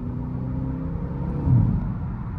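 A Mercedes-AMG car drives with a low, steady engine rumble heard from inside, swelling briefly as it accelerates, then settling back to a smooth cruise.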